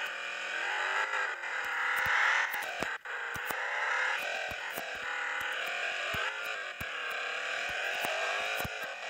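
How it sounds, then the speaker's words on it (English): A taxi drifting and sliding along a mountain road in Taxi Sim 2020 gives a steady engine drone with shifting pitch. Short clicks and ticks cut through it over about nine seconds. "Made a drift slide successfully on a mountain road."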